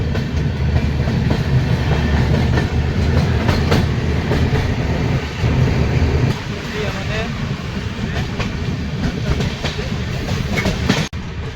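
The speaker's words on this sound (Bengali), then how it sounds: "ফারাক্কা ব্যারেজ পার করার পরই ট্রেন পৌঁছে গেছে নিউ ফারাক্কা জাংশন" Inside a general coach of the Gour Express on a cold winter night, a steady loud rail rumble with rhythmic clickety-clack of the wheels carries throughout.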